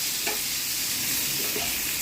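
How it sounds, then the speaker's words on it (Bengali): Pointed gourd coated in salt and turmeric frying in hot oil, a dense, loud, continuous sizzle with faint stirring scrapes, close up and without any voices. "লবণ হলুদটা দিয়ে ভালো করে এটা মাখিয়ে নিয়ে এবার এটাকে ভালো করে ভেজে নেব।"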